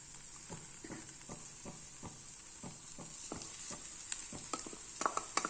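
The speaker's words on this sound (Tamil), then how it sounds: "அந்த ஸ்டேஜில் இப்போ நம்ம இந்த சாதத்தை சேர்த்துக்கலாம்." Cooked rice is stirred into capsicum masala in a pan with a spoon. The spoon scrapes in a steady rhythm of close strokes over a constant frying sizzle, and the strokes grow quicker and louder toward the end.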